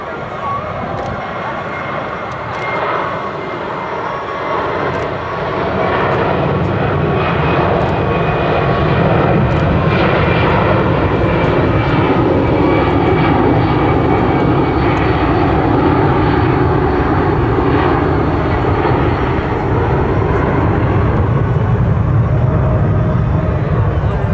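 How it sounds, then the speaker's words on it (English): A USAF C-17 military transport performs a maximum-power go-around during an airshow demonstration, its jet engines producing a loud, sustained roar that swells after the first few seconds and holds steady and powerful throughout. "at the end of this pass, the aircraft will perform a go-around maneuver using maximum power"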